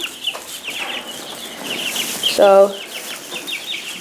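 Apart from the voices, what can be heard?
young chickens clucking in a chicken barn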